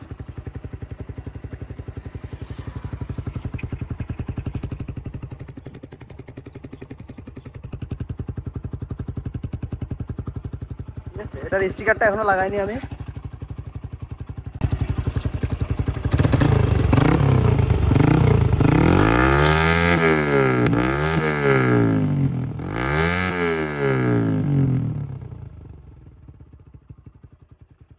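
A motorcycle with a Yoshimura exhaust idles loudly up close, then gets several sharp revs that rise and fall in quick succession. Someone speaks briefly over the engine early on.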